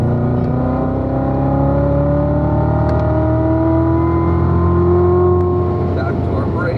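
A Corvette on a mountain racetrack, heard from inside with a loud, steady engine drone whose pitch climbs and then eases off as the throttle lifts toward braking; someone talks over it.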